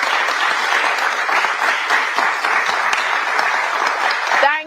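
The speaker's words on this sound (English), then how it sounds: "Audience, you can clap now." A studio audience at a televised national debate breaks into steady, full applause that holds for several seconds and then cuts off abruptly.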